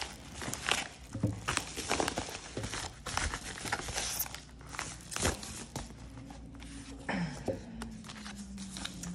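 Parcel holding a self-published Baba Yaga oracle deck being opened, with close, busy crinkling, rustling and tearing of packaging and a few soft knocks, fairly quiet overall.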